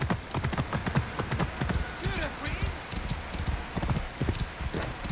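Horse hooves clip-clop steadily in Assassin's Creed Origins as a mount trots through an ancient Egyptian setting, a close, continuous rhythmic clatter running the whole way with a brief whinny-like call near the middle.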